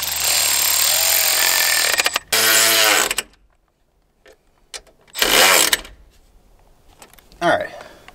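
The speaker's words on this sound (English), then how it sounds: "So we're going to get them tightened down." A power tool, likely an impact wrench, rattles in short loud bursts while tightening bolts on a 1999 Ford 7.3 Powerstroke diesel, with quiet gaps and brief clanks between runs.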